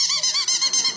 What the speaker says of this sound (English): You take one ball out and you make it squeak.